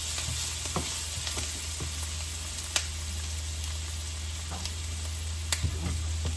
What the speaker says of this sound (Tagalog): Gisa-gisa lang guys.